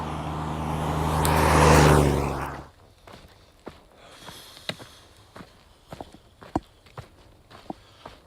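A vehicle on a busy road near Mt Hood rushes past close by in a loud whoosh that builds and fades within a few seconds, leaving quiet broken by light footstep-like ticks and scuffs.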